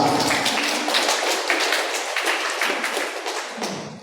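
Audience applause in a hall during a fashion business talk in Malaysia, a dense burst of clapping that stays loud and then slowly thins out, with no one speaking over it.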